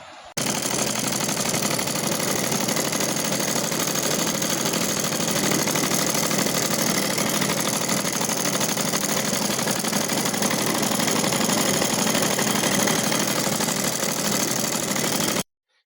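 A sewing machine stitches a pajama waistband, a dense, even mechanical whir running loud and unbroken for about fifteen seconds before cutting off abruptly.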